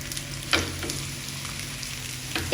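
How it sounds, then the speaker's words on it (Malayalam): Paratha frying in sunflower oil in a pan, a steady low sizzle throughout with a couple of brief louder stirs or shifts, close and without talk. "അതിനുശേഷം നമ്മുടെ ഒരു പൊറോട്ട എടുത്തിട്ട് ഇങ്ങനെ മുക്കിയിട്ടൊന്ന് തിരിച്ചു വെച്ചിട്ട് കൊടുക്കാം."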